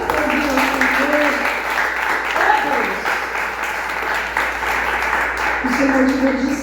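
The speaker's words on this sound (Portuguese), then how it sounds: "Vamos aplaudir ao Senhor." A church congregation claps together in praise, steady applause running throughout while a voice speaks over it.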